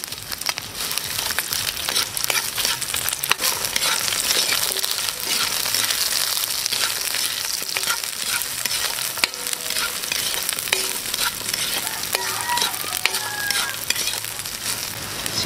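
Plenty of garlic with bay leaves sizzles and crackles steadily in a pan for adobo, with frequent scraping stirs and clinks of a utensil throughout.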